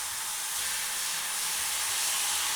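Meat patties sizzling in a frying pan, a steady, loud hiss of frying that continues without a break and swells slightly toward the end.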